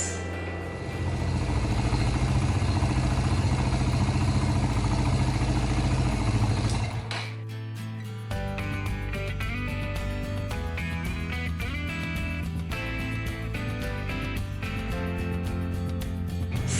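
A Suzuki GN125 engine turning over at full throttle during a compression test, a loud steady mechanical whir and clatter that breaks off briefly, then resumes with rhythmic clicking for the rest of the stretch.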